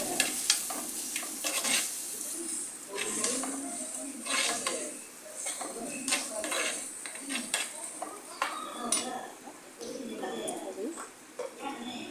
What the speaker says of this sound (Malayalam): തക്കാളി ഇട്ടു, പച്ചമുളക് ഇട്ടു, ഇത് 3ഉം കൂടി ഉപ്പിട്ടിട്ട് ഒന്ന് വഴറ്റി കൊണ്ടുവരാണ്.